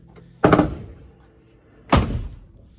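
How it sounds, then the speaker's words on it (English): The door of a 1967 Mercury Cougar with worn-out hinges shuts in two heavy, close thunks about a second and a half apart, each with a short metallic ring fading into quiet. "So listen as I try to close the door."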